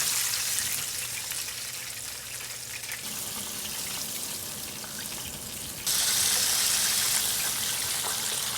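Chicken deep fries in oil in a pan, giving a steady crackling sizzle throughout that jumps to a louder, brighter hiss partway through.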